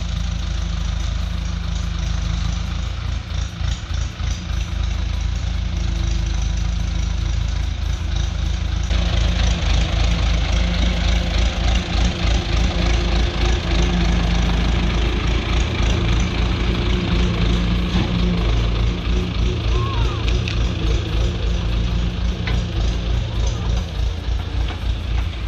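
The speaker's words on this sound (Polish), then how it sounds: "Dziadek tutaj stoi, Milcia, siadaj do ciągnika i jedziemy." An Ursus C-360 tractor engine idles with a steady, throbbing low rumble that runs continuously throughout and gets a little louder partway through.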